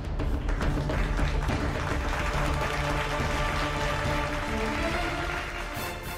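Members of the US Congress applaud Ukrainian President Zelensky in a standing ovation, a dense, steady wash of many hands clapping at full strength throughout, easing slightly near the end.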